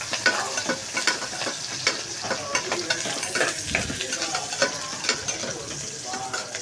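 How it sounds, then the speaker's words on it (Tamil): Onions frying in a pan until golden, with a steady sizzle and frequent scraping stirs throughout, close and moderately loud. "வெங்காயத்தை நல்லா பொன்னிறமாக வறுத்துக்கணும்."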